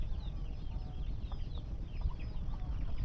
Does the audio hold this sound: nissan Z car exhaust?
no